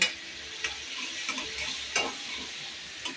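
Pangas fish sizzles steadily in a hot frying pan as it cooks into a chorchori in a village kitchen, with a constant crackling hiss broken by a few louder sputters and stirring clicks.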